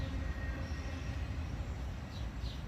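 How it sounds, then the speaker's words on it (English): The tail end of a CSX freight train rolls past in a steady, faint wash of wheel and rail rumble, with a couple of brief high wheel squeals near the end. "the tail end of this train would pass us by"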